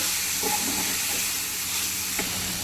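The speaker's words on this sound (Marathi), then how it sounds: "हे चांगलं परतून घ्यायचं" Onion and coconut paste fries in a pan as jackfruit seed curry is cooked, giving a steady hissing sizzle throughout, with a couple of faint clinks from stirring.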